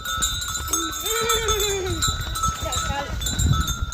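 Bulls wearing cowbells being led to a field in a Pahadi hill village: bells clang steadily with animal bleats and calls mixed in, close by, over outdoor background noise.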